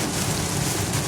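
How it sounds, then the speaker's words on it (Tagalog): Heavy typhoon rain pours steadily on a road in Santa Rosa in a dense, continuous roar with no voices. "Grabe, oh, lakas ng ulan."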